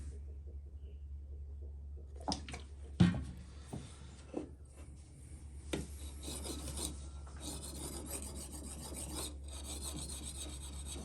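A knife blade scrapes repeatedly across a water-wetted ceramic sharpening stone, with irregular rasping strokes and a few sharp knocks over a steady low hum.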